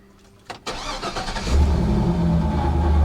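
A Chevy SSR with a suspected internal engine noise cranks with a short starter whir, catches, and settles into a loud, steady idle close by.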